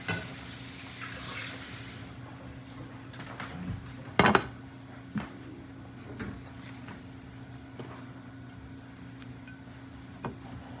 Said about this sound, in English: Let me wash this up and dry it.